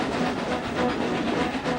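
A model train runs along a branch line, a steady rolling rumble with faint rhythmic clicking that holds an even level throughout, with no voices.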